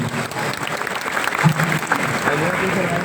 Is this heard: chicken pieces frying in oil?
no